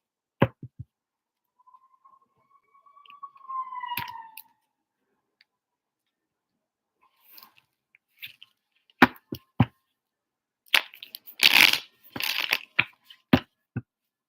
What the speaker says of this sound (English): Ooh, the sound of these cards. I like that. Like that first shuffle was so like, ooh, I like that.